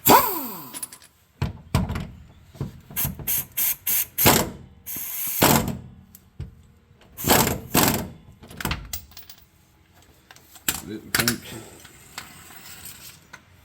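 Mac ratchet wrench turning a body mount bolt on a 1986 Chevy Suburban, a series of close, sharp clicking ratchet bursts in uneven strokes with brief pauses and occasional metallic clunks.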